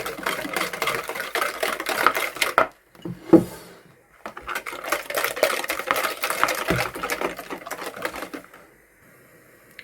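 Eggs with sugar, vanilla sugar and a pinch of salt beaten in a bowl, a steady rapid clattering whisk against the bowl that pauses briefly midway and then resumes.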